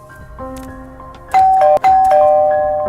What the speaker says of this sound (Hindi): सौरभ दरवाजे की घंटी बजाता है।